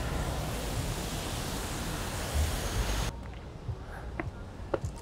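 Rain falls on a Melbourne street at night as a dense, steady hiss that fills the first three seconds, then drops to a softer wash with faint scattered taps and clicks.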